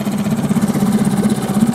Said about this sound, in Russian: Где-то 5 минут буду греть мотор.